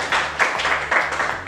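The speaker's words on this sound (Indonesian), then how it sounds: "Beri tepuk tangan." Scattered clapping from students in a classroom, a short burst of moderate, uneven hand claps close by, with no talk over it.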